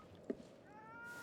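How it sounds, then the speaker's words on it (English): A cat meows once, briefly, in the video game Ghostwire: Tokyo, a short call set against a steady background of game ambience and music. "Cat!"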